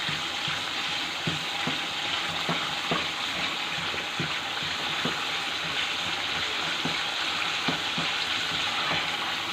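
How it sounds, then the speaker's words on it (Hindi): Steady sizzling of garlic paste frying in a pan with spices, with a spoon scraping and stirring in a loose, repeated rhythm throughout. "आपने इसको डाल के अच्छे से भूनना है और इसको चम्मच इस तरीके से हिलाना है"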